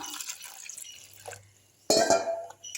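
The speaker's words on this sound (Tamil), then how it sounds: "இதில் வந்து ரெண்டு கப்பு அளவு தண்ணி ஊற்றிக்கலாம்" Water poured into rice flour batter for murukku: a short burst of splashing, then quiet, then a louder gush of liquid hitting the bowl near the end.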